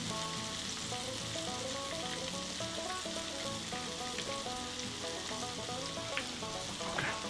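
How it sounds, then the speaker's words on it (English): Onions fry in hot oil, turning crispy, with a steady dense sizzle close by and no talking over it, a few faint stirring clicks near the end. "our onions are fluffing up a little bit. They're getting a little crispy"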